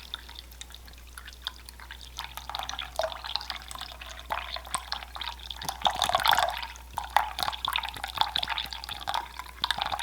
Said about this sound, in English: I'm just going to let this drain off real quick.